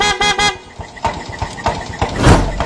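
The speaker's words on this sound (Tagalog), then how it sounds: "loud horn with passive stock" A loud motorcycle horn on a Suzuki RS 110 blares in a few short honks at the start, followed by engine rumble and road noise as the motorcycle moves.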